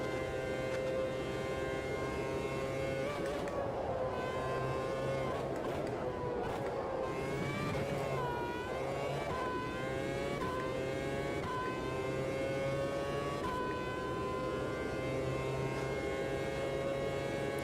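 Formula Reiza race car in Automobilista 2 at Suzuka, its engine howling loud and close, revving up and down through gear changes with sweeping pitch rises and drops over a steady high drone.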